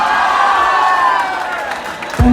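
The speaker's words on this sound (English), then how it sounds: "Can we have a huge round of applause for him?" A large audience at a college graduation day ceremony cheers and claps at full volume, a dense steady roar of applause with whoops that begins to fade near the end.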